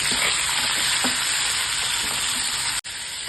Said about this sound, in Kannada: ಇದನ್ನು ಚೆನ್ನಾಗಿ ಫ್ರೈ ಮಾಡ್ಕೊಳ್ಳಿ.